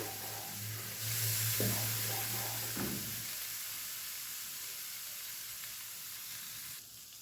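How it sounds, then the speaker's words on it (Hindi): Garlic roasting in a hot pan for a garlic curry gives a steady close sizzle and hiss. A few stirring clatters come early, and the frying continues on its own. "इस लहसुन को भी हम भून लेते हैं अच्छे से"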